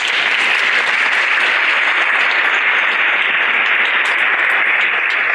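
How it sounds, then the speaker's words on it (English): An audience at a city State of the City address applauds board members, a dense, even wash of clapping from many hands that holds steady from start to finish. "So round of applause for these guys."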